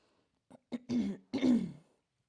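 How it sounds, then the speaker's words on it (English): A person clears their throat close by, a couple of short rough rasps followed by a longer gravelly hem, then silence. "Excuse me for clearing my throat."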